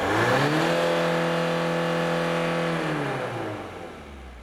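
A car engine revs up during an exhaust emission test, a loud rising roar held high for a few seconds, then falling back toward idle, with no talk over it.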